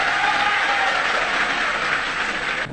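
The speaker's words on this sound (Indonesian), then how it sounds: "Tepuk tangan untuk kedua menteri kita" Steady applause from an audience at a university honorary professorship ceremony, a thick wash of clapping that holds evenly at a fairly loud level before cutting off abruptly.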